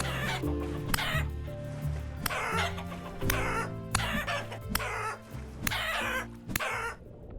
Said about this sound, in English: Chicken for dinner, it seems.